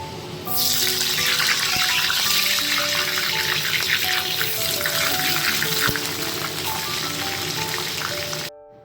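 Whole eggplant slices frying in oil in a pan for a Bengali home meal with dal give a steady, close, broadband sizzle. It starts abruptly, holds for about eight seconds with soft tonal background sounds, then cuts off.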